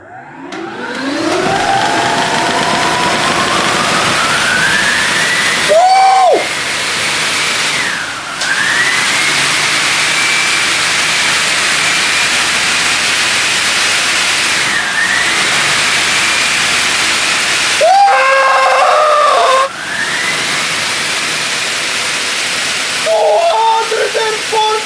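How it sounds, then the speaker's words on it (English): An OOTD T10 Pro electric scooter fitted with a VESC controller, its rear motor spinning backwards at 70 amps, gives a loud, steady electric whine with rising and falling pitch sweeps, broken by a few brief sharp clunks. "The rear motor is spinning backwards, as you can see."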